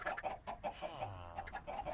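Chickens clucking in a Minecraft farm, a string of short rhythmic clucks repeating quietly and close, one bird after another.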